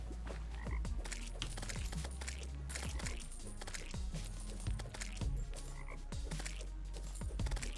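Toads in the Terraria Calamity Mod game croak in a dense, continuous chorus, overlapping rapid calls layered over a steady low drone with no pauses.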